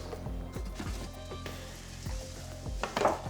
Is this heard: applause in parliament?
no